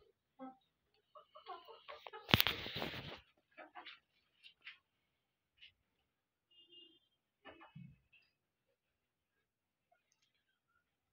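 Chickens on a small Nigerian farm's poultry section, faint scattered clucks and short calls with one sharp louder burst, separated by quiet gaps.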